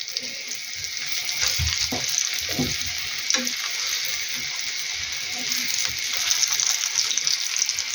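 Zucchini slices coated in batter fry in a pan over medium heat, giving a steady bright sizzle throughout with a few soft clinks and low knocks.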